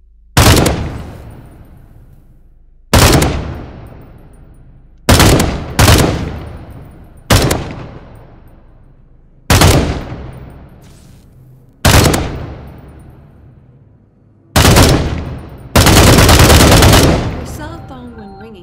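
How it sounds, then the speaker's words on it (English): Rifle shots at targets in the VR game Contagion VR: eight sharp, loud reports at irregular intervals, each with a decaying tail, ending in a longer sustained burst. "Go ahead and do some damage on those targets with the rifle."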